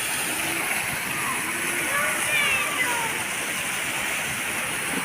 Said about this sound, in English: It's gorgeous how far this water shoots, and then the series of pools.